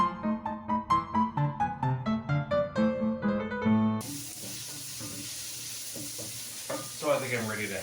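Music notes play first, then gives way to a steady hiss of onions frying in a pan with occasional stirring clatter.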